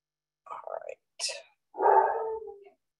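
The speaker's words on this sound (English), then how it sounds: "And there's my dog." A dog gives three close, separate vocal bursts: two short yelping barks followed by a longer, drawn-out whining bark, with silence between them.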